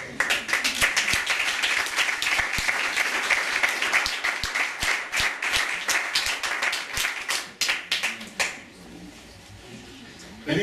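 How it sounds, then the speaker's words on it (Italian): An audience at a Rotary Club scholarship ceremony in Saronno applauds a school's award recipients. The clapping is brisk and crowded, with sharp individual claps standing out, then it thins into a few scattered claps and stops near the end. "dopo questo applauso"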